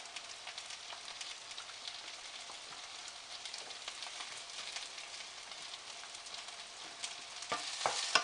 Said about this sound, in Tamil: ஸோ வெங்காயம் நல்லா வதங்கிடுச்சு.